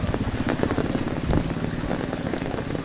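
Heavy rain pours steadily and loudly, drumming on surfaces nearby in a dense, unbroken hiss with no voices over it.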